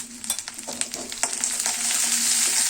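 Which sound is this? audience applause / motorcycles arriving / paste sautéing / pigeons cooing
paste sautéing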